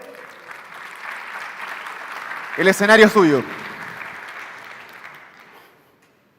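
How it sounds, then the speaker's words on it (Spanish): A short burst of audience applause at a cybersecurity seminar, rising briefly around the middle under and between a speaker's voice, then fading to quiet. "Un aplauso, por favor,"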